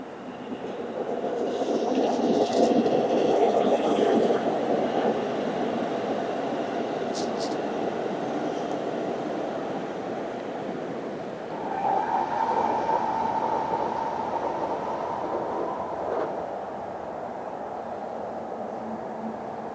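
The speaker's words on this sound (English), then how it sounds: "Train will come right by here." A train in Fukuoka, Japan, heard from a ninth-floor apartment, rumbles steadily past, a broad continuous roar that swells briefly midway, with faint higher squeals above it.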